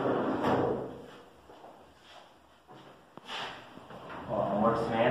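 A soft-close drawer in a bedroom wardrobe slides shut with a muffled rumble and a gentle damped stop, with a brief knock partway through and a voice talking over it.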